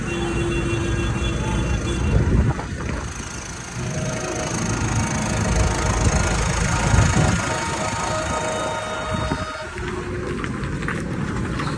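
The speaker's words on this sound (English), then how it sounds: "Can't imagine how many tractors are here." Many farm tractors idle together at a large farmers' rally in Llandudno during the Welsh Labour conference, a dense, steady, close engine rumble that runs throughout without breaks.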